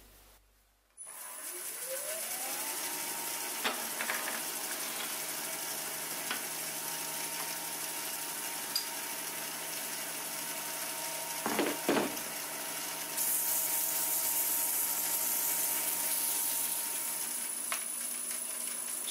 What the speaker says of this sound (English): So I'm just going to do a bit of sanding.